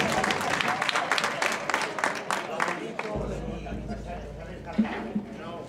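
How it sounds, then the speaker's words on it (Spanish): Applause for a performer at a live presentation event: broadband clapping from a small group fills the first three seconds, then thins out into scattered claps and murmuring crowd voices, with people talking throughout. "Un aplauso para él, hombre."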